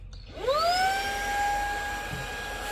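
A Lotus X30 Pro cordless vacuum starts up on its regular setting, its motor whine rising quickly to a steady, close, tonal whir over a broad airflow hiss.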